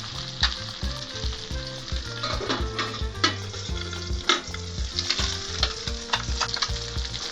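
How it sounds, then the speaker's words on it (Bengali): Tangra fish crackle and spit in hot oil as they are turned, a close, dense sizzle with repeated sharp pops and scraping stirs throughout; no voices. "উল্টে পাল্টে ভালো করে ভেজে নিতে হবে।"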